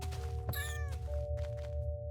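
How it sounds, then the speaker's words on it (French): A video-game cat gives one clear meow that rises and falls, set against steady game music and low ambient hum, with no talk. "le chat qui a charcuté les lapins"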